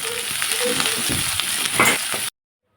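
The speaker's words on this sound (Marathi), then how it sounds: "शिमला मिरची आणि कांदा पण मस्त बुंजाई घ्या" Capsicum and onion fry in a hot pan for soybean chilli, giving a steady, close, dense sizzle with a few stirring scrapes before it cuts off abruptly.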